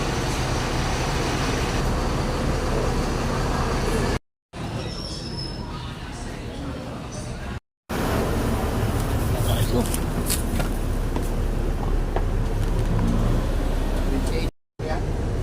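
A bus idling at a terminal, a steady broadband engine and traffic rumble carrying on for several seconds with brief cuts, while people talk over it.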